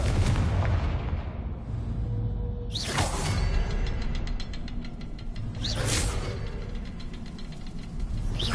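Confringo fire spell cast in Hogwarts Legacy: loud whooshing fiery bursts around three and six seconds, each with a sharp blast over a steady rumbling game background.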